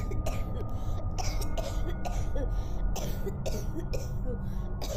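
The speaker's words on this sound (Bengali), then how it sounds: "পাশের ঘর থেকে কোনো এক মহিলা কণ্ঠের কাশির শব্দ শুনতে পেলাম" Woman coughing in the next room, a run of short repeated coughs and throat clearing at an uneven rhythm, muffled and moderately loud over a low background hum.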